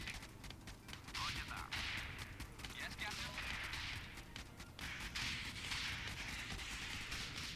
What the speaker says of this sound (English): If we fire a rocket right there, they're both going to suffer for it